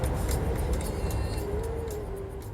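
An electric car drives on a road in the evening near Waterford, a steady low road and tyre hum with rushing air noise, a faint rising whine running through it, no talk.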